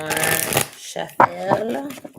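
A deck of tarot cards is shuffled in a quick riffling burst, close and crisp, while a voice talks over and around the card sounds.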